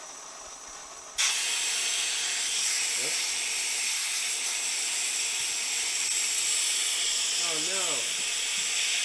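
Loud, steady hiss of compressed air escaping from the failed valve of an AirForce Condor .22 caliber air rifle at a shooting range, beginning abruptly and continuing unbroken, with brief speech over it.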